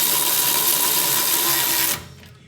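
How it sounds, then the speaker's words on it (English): A Milwaukee power tool whirs loudly and steadily up close while blasting out brake caliper bolts on a Toyota Land Cruiser, then cuts off abruptly near the end. "I'm gonna blast them out with my Milwaukee tool here."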